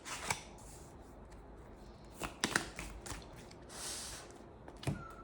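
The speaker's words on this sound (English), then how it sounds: "I'm having a hell of a lot of trouble shuffling" Tarot cards being shuffled by hand, a few quiet, scattered riffling and slapping bursts separated by pauses, close but faint against a soft background hiss.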